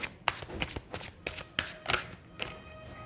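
Tarot cards are shuffled close up, giving a string of quick papery riffles and soft slaps at irregular intervals, each sharp and brief, with no talk over them.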